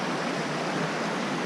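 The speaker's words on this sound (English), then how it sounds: "I'm talking really loud because I know the stream's going to kind of drown out. This is Bayhorse Creek." Bayhorse Creek, a mountain stream flowing toward the Salmon River, rushes in a dense, steady, loud broadband wash close by, unbroken and without voices.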